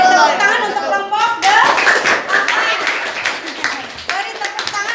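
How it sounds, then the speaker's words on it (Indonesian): A class claps for a student group after its presentation, scattered and uneven hand claps with some chuckles and talk mixed in, fairly close and lively throughout. "Beri tepuk tangan untuk kelompok"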